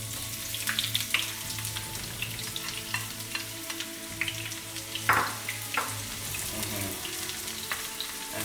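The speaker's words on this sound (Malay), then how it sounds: "Sekarang kita panaskan minyak, ya. Jadi kita masukkan minyak kita. Kita akan masukkan bawang kita, ya." Onions and a little garlic frying in hot oil in a pan, a steady close sizzle with occasional stirring scrapes and pops, no talking.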